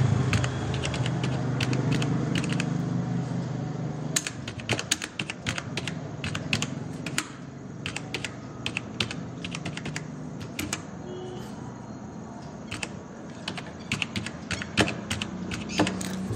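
Steady clatter of a computer keyboard as an address is typed into an online school admission form, a dense run of close, fairly loud key taps over a low hum, with no voices.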